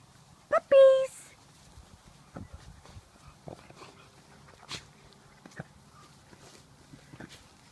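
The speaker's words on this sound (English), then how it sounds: "Puppies!" Puppies let out a brief, high whimpering cry near the start, then go quiet apart from faint scuffling and soft pattering steps.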